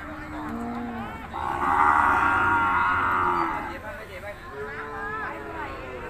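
Cattle at the Som Poi livestock market give several long, loud moos one after another over a steady background of crowd chatter and market noise.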